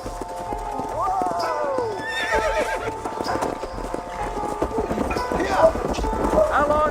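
Horse hooves clip-clop steadily while a horse neighs and whinnies in the Red Dead Redemption video game, with game characters talking over the hoofbeats and a faint music bed underneath.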